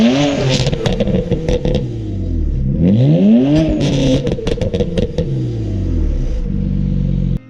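Car engine with catless downpipes and an MHD tune revs loudly and close, pitch sweeping up and down through several throttle blips, with crackly pops and clatter between pulls.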